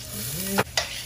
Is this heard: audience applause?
no